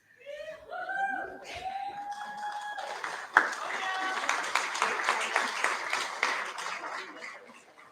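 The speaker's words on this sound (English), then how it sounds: "I ask you just to hold your applause until the entire group is up" Audience applause at a high school senior prize giving, steady clapping from a large crowd that builds after a few seconds and carries on, with a few louder claps standing out, following a brief stretch of speech at the start.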